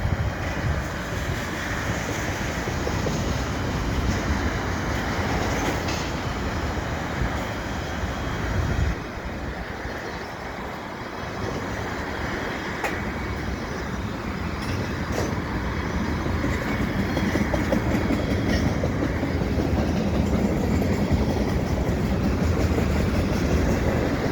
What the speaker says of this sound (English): A long line of crude oil in these tankers.